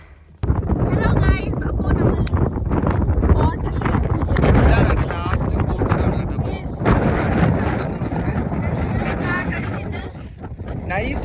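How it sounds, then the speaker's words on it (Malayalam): Strong wind gusts at the Vagamon hilltop viewpoint, roaring loud and steady as they buffet the microphone almost throughout, with low rumbling blasts and people talking underneath. "കാറ്റുണ്ട് നല്ല കാറ്റ്"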